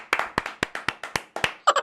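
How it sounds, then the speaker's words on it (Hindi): Hands clap in a village Republic Day comedy sketch for a child performer, about ten sharp, evenly spaced claps ending in a quick cluster of brighter taps. "तो सभी लोग तालियां बजाएं।"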